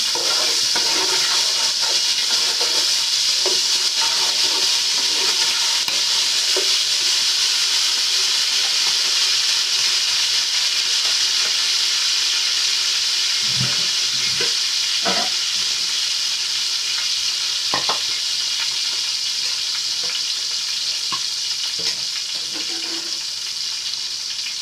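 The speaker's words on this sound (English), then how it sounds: "You have to saute your onions for like" Onions sautéing in a pan for jollof rice, a loud continuous sizzle and hiss with occasional faint clinks and stirring sounds throughout.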